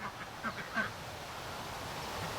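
Adult ducks quacking at the water's edge, a few short faint quacks at a distance in the first second, then a steady low outdoor background.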